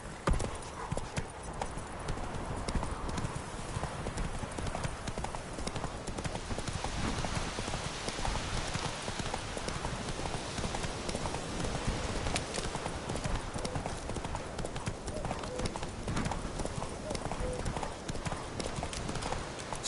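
Rhythmic clip-clop of a horse galloping in The Witcher 3, steady hoofbeats running throughout with game ambience and some talk over it.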